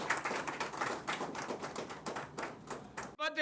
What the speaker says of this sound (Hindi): मैं चाहता हूँ जोरदार तालियों से अभिनंदन करें।